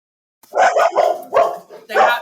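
Puppies bark and yip in a few short bursts close by, a cluster of lively dog calls over roughly two seconds.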